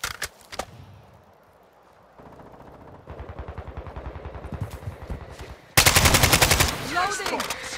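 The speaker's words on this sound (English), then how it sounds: "I'm taking fire" Sustained automatic gunfire in Call of Duty Modern Warfare 2 while under fire, rapid bursts building from sparse shots into a dense, loud stream, with a sharp, louder burst near the end.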